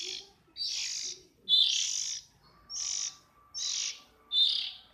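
Oriental magpie-robin (kacer) chicks at a breeding farm chirp in a series of six bright, rhythmic bursts of high chatter, close and clear with brief pauses between calls.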